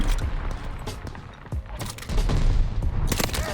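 Dense Call of Duty: Vanguard firefight, with a steady barrage of close gunfire and heavy explosion booms, bursts and impacts piling up loudly across the whole stretch.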